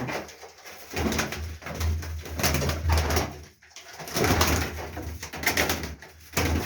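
Pigeons coo in a grandfather's coop: close, repeated low throaty coos and rolling calls come from several birds over an uneven rustle of wings and movement, with no speech.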